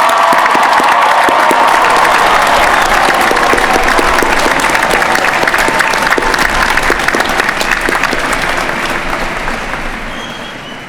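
A large graduation crowd gives sustained applause for the graduates' family members, dense clapping with faint cheers filling a big outdoor ceremony before gradually fading out.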